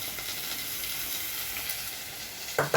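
Food sautés in a hot pan for a Tamil lentil-dumpling curry, giving a steady close crackling sizzle throughout with a brief louder clatter of stirring near the end; nobody speaks.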